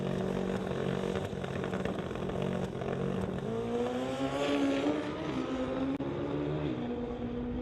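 A Pro Modified drag racing motorcycle makes a qualifying run at Doorwarz. The engine drones loudly and continuously, with its pitch climbing as it accelerates and holding a steady roar throughout.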